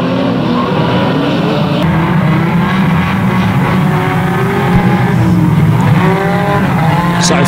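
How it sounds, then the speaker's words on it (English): Unlimited banger racing cars roar around a Halloween meeting circuit at Kings Lynn, with a steady loud engine drone, revving and tyre noise throughout and a silver and black car coming off a corner. "Lee Kingsnorth coming off the corner in the silver and black car"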